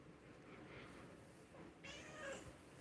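A faint, quiet cat meow rises briefly near the end over a soft background hiss.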